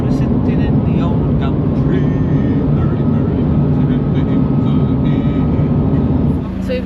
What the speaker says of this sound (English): So we've got our real Australian road train experience here.